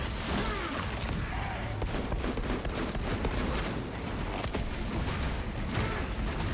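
Rapid, continuous gunfire rattles through a chaotic Space Marine 2 battle, dense bursts of shots layered over heavy combat noise at a steady, moderate level.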